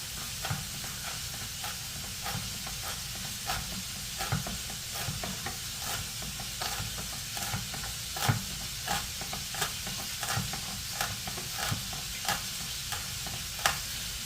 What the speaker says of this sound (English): It's a chunky pesto, so I'm going to just chop, chop, chop